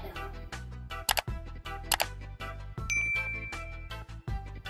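A bright notification bell ding rings out twice in quick succession, with another chime later, layered over a steady musical backing track with no talking.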